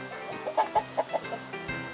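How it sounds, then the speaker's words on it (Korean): Chickens cluck in short, evenly spaced bursts near a rugged mountain coop in Gangwon Province, about twenty birds, with one hen stepping out toward an approaching person; the clucks are clear and close over a steady outdoor hum. "아, 사람이 오니까 이렇게 닭이 한 마리가 이렇게 나오네."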